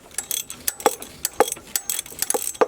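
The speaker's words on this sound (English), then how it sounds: "little by little we tightening it using the mini ratchet." A mini ratchet tightens a bolt on a new power steering pump in a 2004 Acura TL, giving a close run of quick, irregular clicking ratchet strokes.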